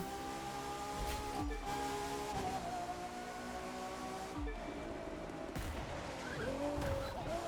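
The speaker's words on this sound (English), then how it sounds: "That really over-the-top downshift, which I love" A McLaren P1 in The Crew 2 racing game roars with a loud, sustained engine note that climbs and drops as it is dramatically downshifted, with a few sharp revving surges along the way.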